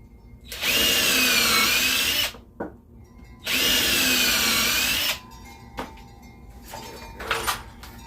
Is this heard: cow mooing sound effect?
no